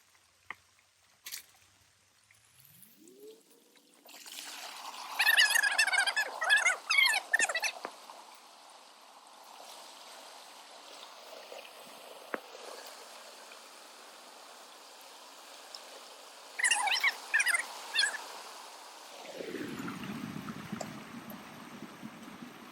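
Stream water flows through the opened top of a beaver dam, a low steady trickle and gurgle, broken by bursts of splashing and sloshing as debris is pulled, with occasional knocks nearby.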